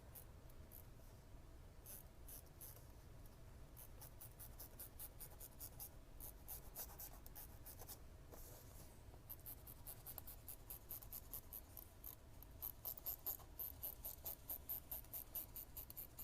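A Clover Chaco marker drawn across paper and fabric while tracing a sewing pattern piece, giving close, soft scratchy strokes in quick repeated bursts that grow denser and sharper toward the end, with no talking.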